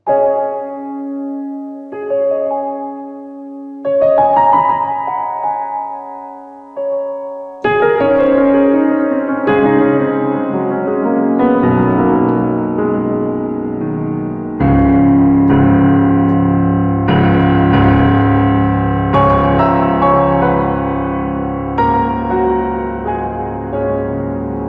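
Layered synthesized tones and chords from a Sampletekk audio plugin build up and grow fuller, washed in a spacious reverb tail that lingers between notes, with no voices.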